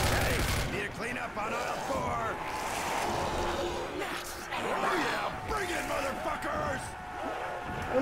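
LMG machine gun fire in Call of Duty: World at War comes in bursts, mixed with game sounds. People talk loudly over it the whole time.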